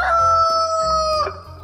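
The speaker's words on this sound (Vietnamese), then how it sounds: "Mới 5 giờ sáng anh gà đã gáy rồi hả?" A cartoon rooster crows in a 3D animated show, one long sustained crow with a bright, clear tone that breaks off near the end, loud and close with no talking over it.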